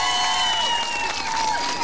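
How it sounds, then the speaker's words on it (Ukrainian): Brief burst of crowd applause and cheering for second-round singers at an outdoor karaoke event on a town square, a dense wash of clapping with a sustained tone over it. "Оплески учасникам другого туру."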